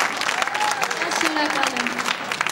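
Audience applause at a gala concert, steady clapping throughout with a presenter's voice speaking over it.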